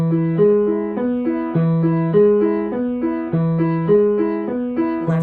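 A piano plays a smooth, legato repeating pattern of notes, hands alternating at a steady pace, clear and close, with no voices.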